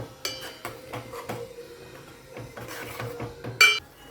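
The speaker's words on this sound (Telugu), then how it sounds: "చూడండి బాగా కలుపుతూ ఉండాలి" Fish curry being stirred in a metal pan, with repeated clinks and scrapes of a spoon against the pan in an uneven rhythm, close by and closing on a sharper clatter, with no voices.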